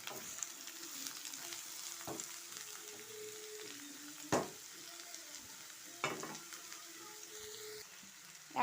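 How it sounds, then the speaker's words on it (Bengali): Cut potatoes and carrots frying in a pan at breakfast cooking, a soft continuous sizzle with a few sharp stirring knocks against the pan, close and fairly quiet. "দিয়ে এইটাও ভাজা ভাজা করে নেব"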